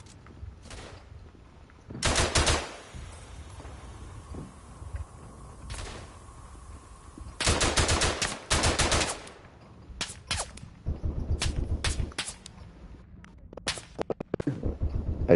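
Machine gun fire in the WW1 trench video game Verdun comes in sharp, loud bursts of rapid shots, some long and some short, separated by quieter gaps of distant battlefield noise.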